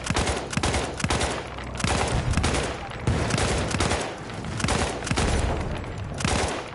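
Repeated bursts of rapid gunfire in Battlefield 1, loud and close, cracking in clusters across the whole stretch as a shooter fires from a hill during a hardcore conquest match.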